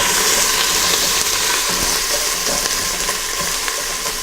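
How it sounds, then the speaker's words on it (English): Grass-fed pork stew browning in a pot makes a loud, continuous frying sizzle close up, with faint scrapes of a stirring spoon now and then. "So I'm just going to give this an occasional stir."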